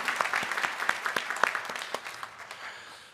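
A church congregation claps to welcome a missionary couple at a Sunday worship service, starting with distinct, fairly close individual claps and then blending into a lighter patter that trails off.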